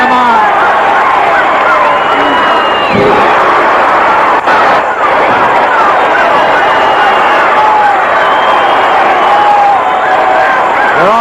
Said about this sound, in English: And the fans cheering him on.